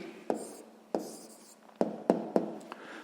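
Someone writes an answer by hand on paper, probably with a pen, in a sequence of distinct close scratchy strokes separated by short pauses, in a quiet room with no talking.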